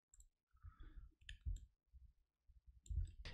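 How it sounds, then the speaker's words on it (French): Quiet, sparse mouse clicks while working in Substance Painter on a computer, a few soft taps spread across a near-silent stretch, with a sharper click near the end. "vous pouvez cliquer pour afficher votre masque."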